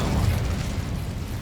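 The Incendio fire spell cast in the Hogwarts Legacy video game gives a steady, rough, rumbling burst of flame that roars for over a second with no pause.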